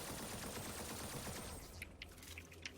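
Rapid bursts of submachine gun fire in the video game Zombotron, a dense rattling volley for over a second and a half, then a few scattered sharper shots and clicks.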